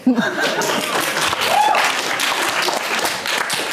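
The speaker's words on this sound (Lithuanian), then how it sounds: "Bet labai garsiai ploja" A small audience claps loudly and continuously for a few seconds, with some laughter mixed into the applause.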